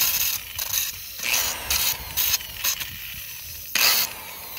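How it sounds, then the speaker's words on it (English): Grooves are cut into rear brake pads on a 2013 Ford F-150 with a rough, rasping grind in irregular strokes and brief pauses, close and fairly loud, no talk. "I'm going to cut a groove there and a groove there"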